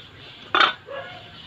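A metal lid set down on a cooking pot of chicken tinola at home, one sharp clanking clink, close and clear, over a quiet kitchen background.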